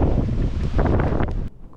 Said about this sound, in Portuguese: a ventania tá forte